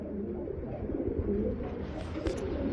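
Low, soft coos of pigeons for sale roll on repeatedly and close by, overlapping in a steady murmur with no one speaking.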